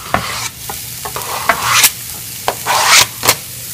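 Chorizo hits a hot pan of softened peppers, onions and fennel, giving a loud close sizzle broken by repeated scraping stirs in uneven bursts, no talking.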